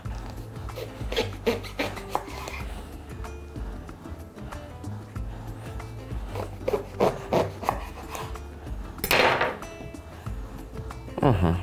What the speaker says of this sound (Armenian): Եվ ամեն սմբուկը կիսում ենք 3 մասի։